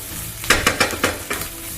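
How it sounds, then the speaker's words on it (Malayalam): Clams being stirred in a hot pan over a medium flame for Kerala-style kakka fry, a few quick scraping stir strokes over a soft background sizzle, close and without talk. "ഈ സമയത്ത് മീഡിയം ഫ്ലെയിമിൽ തന്നെ വെച്ച് നന്നായി ഇളക്കി യോജിപ്പിക്കുക"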